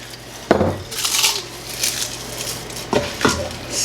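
Dehydrated mushrooms crumbled by hand over a cooking pot for chicken and rice, giving a few short crisp crackles and brittle rustles in bursts, with light clinks of utensils nearby.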